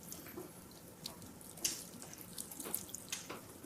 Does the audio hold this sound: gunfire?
no